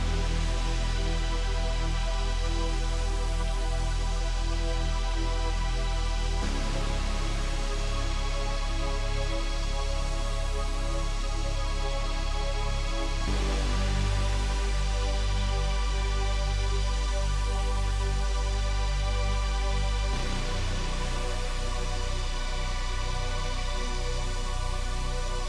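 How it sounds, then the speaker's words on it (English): Dark, epic synth pads from a track breakdown play a sustained chord progression. Loud, thick chords shift about every six to seven seconds, with no talk. "kind of dark sounding pads"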